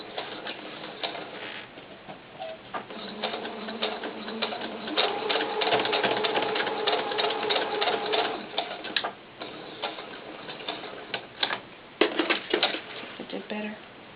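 A sewing machine stitches back over a doll pants seam to reinforce it, running in bursts of steady rapid ticking with brief pauses, with some speech at moments.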